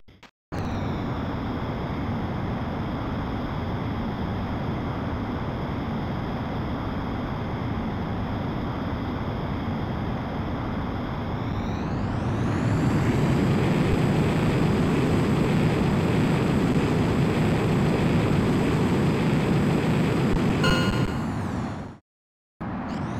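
F-22A Raptor jet taking off in the combat flight game Ace Combat X, a loud steady engine roar that swells and rises in pitch about halfway through as thrust builds, then cuts off abruptly near the end.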